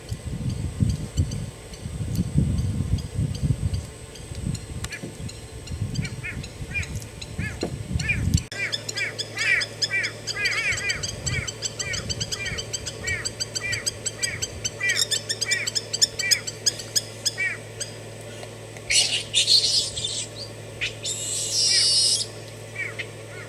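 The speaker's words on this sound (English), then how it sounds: "I think this little bird here, the lapwing, seems to be protecting her eggs." A lapwing calls repeatedly while defending her eggs from an approaching baboon on open savanna, its sharp chirps rising into loud, insistent bursts over a low rumble of background noise.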